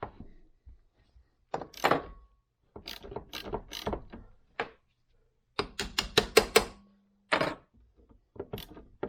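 Light taps on the engine case of a 2005 Yamaha YZ250F, where a dowel pin is binding, come in close clustered bursts of quick knocks separated by short pauses.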